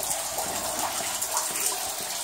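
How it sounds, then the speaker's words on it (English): Water seeping and pouring down inside an abandoned mine, a continuous broad rushing splash with faint patters, close and fairly loud, with no voices. "a lot of water seeping down on us"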